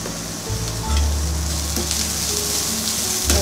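Onions sautéing in a pan with a sprinkle of asafoetida powder: a loud, dense, continuous sizzle and crackle up close, with a low hum and occasional stirring scrapes.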